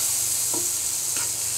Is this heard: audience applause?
no